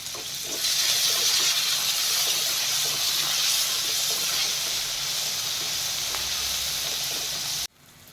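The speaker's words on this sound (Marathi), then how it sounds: "त्याचा कच्चेपणा जात जाईल तोपर्यंत असा हा कांदा परतून घ्यायचा आहे" Onion sautéing in a pan for a chakvat sabji, a steady close sizzling hiss that holds for about seven seconds before cutting off abruptly.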